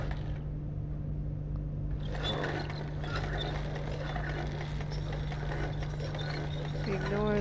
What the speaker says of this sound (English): This is a sausage maker. Grinder upper.